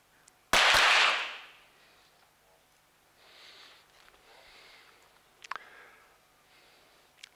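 A single sharp, loud pistol shot cracks during a women's 25m pistol competition final at an ISSF World Cup Final in Munich, followed by quiet range ambience and a couple of faint clicks.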